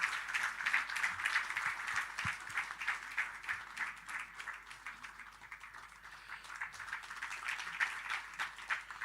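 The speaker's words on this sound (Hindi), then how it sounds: "जोरदार तालियों से स्वागत करते हैं" An audience greets a Sufi singer with sustained, dense applause, many hands clapping steadily from start to finish in a hall.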